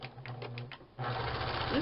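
A sewing machine stitches the side seam of a fabric market bag, a rapid mechanical whirring with a pulsing needle rhythm that runs steadily and grows busier and louder after the first second, close and with no talk.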